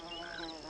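A bee buzzes steadily and faintly up close in a quiet outdoor setting, a continuous droning hum with no voices.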